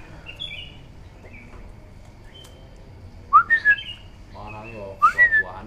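A sooty-headed bulbul gives short bright whistled phrases, two clear bursts in the second half, with faint chirps and quiet background noise.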